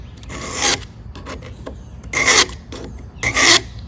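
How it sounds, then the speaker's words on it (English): A utility knife spine is drawn across the coarse yellow side of a Smith's diamond stone, three loud rasping strokes separated by softer scraping and short pauses. "We'll use this yellow side, which is coarse, to sharpen up the spine."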